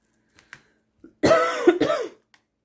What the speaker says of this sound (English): I still have this dry cough